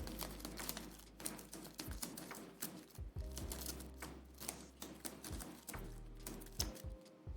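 Playing cards for the board game Die in a Dungeon being shuffled, with repeated riffles and soft taps on a table in short bursts, close and quiet.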